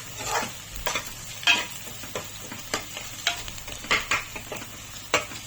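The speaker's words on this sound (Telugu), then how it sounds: "మీడియం ఫ్లేమ్లోనే మొత్తం ఉల్లిపాయలు వేగే వరకు తిప్పుతూనే ఉన్నాను" Onions for an Indian egg curry fry over a medium flame with a steady sizzle, while a spatula scrapes and stirs the pan in a quick irregular series of sharp clicks and scuffs, close and fairly loud, with no voices.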